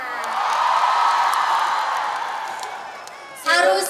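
Crowd of fans cheering and whooping for Lesti's team at a Bandung fan event, a loud sustained roar with scattered clapping that swells, fades slightly, then surges again at the end.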